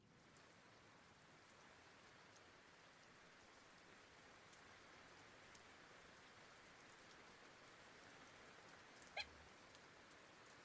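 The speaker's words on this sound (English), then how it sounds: "Maybe just some bits of rain" Light rain falling steadily, a soft, faint even patter of drops on a surface that continues throughout, with a brief sharper sound near the end and no talking.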